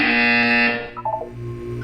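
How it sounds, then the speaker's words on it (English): A steady electronic buzzer from the video game Portal 2 drones loudly for under a second, then cuts off, leaving a few faint blips and a low hum. "When you hear the buzzer, look up at the ceiling."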